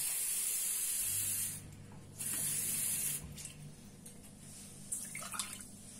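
Water poured from a glass onto sugar for lokma syrup, a close hissing, splashing pour in two main bursts with a short pause between, then trailing drips.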